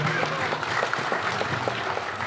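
Applause greets a representative at a Bileg iti Lima Worldwide Organization gathering, soft and diffuse under a steady noisy background, with only scattered individual claps standing out.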